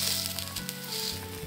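Small pieces of potato and onion frying in a pan, a steady close sizzle and crackle throughout, with no talking.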